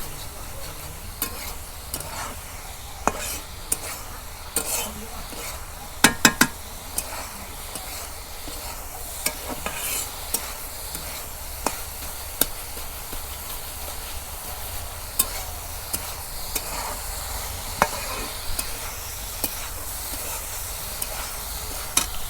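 Vegetables fried in a pan in a village kitchen, stirred steadily for a long stretch: continuous close sizzling with regular scraping clinks and a few louder knocks, no talking.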